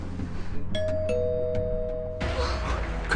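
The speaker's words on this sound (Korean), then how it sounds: "그때 다시 울리는 초인종." A doorbell rings at night in a home staked out by police, giving a clear two-tone ding-dong chime over a low room hum, followed by a burst of broadband noise.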